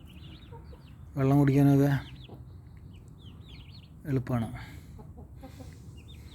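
Chickens cluck close by in a farmyard, with a drawn-out hen call followed by a shorter burst, while a person speaks between the calls.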